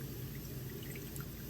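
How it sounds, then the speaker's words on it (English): Three Crabs fish sauce pours in a steady stream into a pot of chicken pho broth, making a continuous soft trickling sound under low kitchen background noise. "I got the 3 crabs fish sauce. I'm gonna pour it in here."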